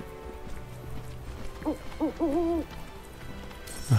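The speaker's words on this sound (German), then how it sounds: "Ach, geh weg, du alte Eule" An owl hoots several times in Final Fantasy VII Rebirth, a string of harmonic calls around the middle with a louder cry at the end, over quiet game ambience.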